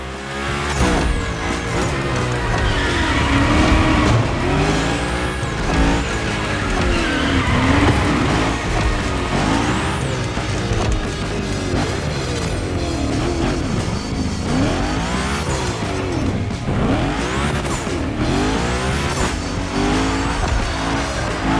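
Continuous tire squeal and skidding from a car drifting through big gymkhana slides in the Motorfest racing video game, with engine revving underneath, loud and sustained throughout.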